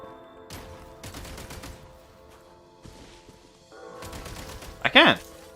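Gunshots in Genshin Impact aimed through a wall, heard as a few separated bursts of impacts over ambient game music, with a louder sharp sound near the end and someone talking.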